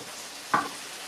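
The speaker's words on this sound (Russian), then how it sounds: "О, лучок жарится, смотрите, как пахнет." Onions frying in a pan, with a steady soft sizzle and one brief louder hiss as they hit the hot oil.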